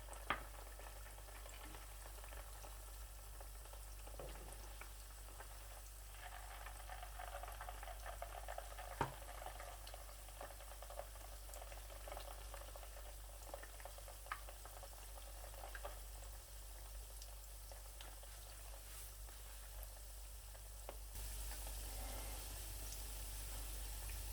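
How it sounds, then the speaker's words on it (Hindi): Potato finger sticks fry in oil with a faint, even, continuous sizzle, and an occasional soft stir can be heard. The sound is quiet and steady with no voices. "थोड़ा थोड़ा सा इनको इस तरीके से हिलाना है, ताकि सारी साइडें जो हैं वो एक जैसी पक जाएं"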